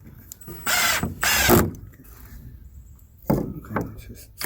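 A power drill driving screws into wood, the wood cracking and splitting along its seam while building a kill cone stand for processing meat birds; two loud whirring bursts close together, then a rougher burst a moment later, with brief talk between.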